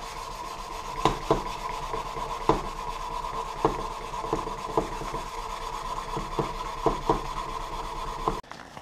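Steel knife blade hand sanded to 150 grit, a steady rubbing rasp with regular sharp strokes about once a second, close and quiet, ending abruptly.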